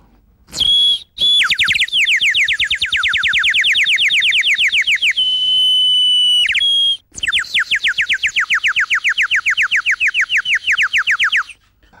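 A shrill whistle made from a plastic drinking straw warbles continuously in fast trilling bursts, its pitch sliding and wavering, loud and close with brief pauses between long runs.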